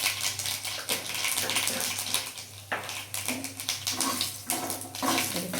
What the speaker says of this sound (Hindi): तो सरसों ये देखिए मैंने डाल दिया इसमें, और सरसों को अच्छे से जला देंगे।